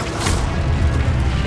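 A Stupefy spell is cast in the video game Hogwarts Legacy during a combat encounter, a dense burst of magical impact with a low booming thud and a whooshing rush that fill the whole brief moment.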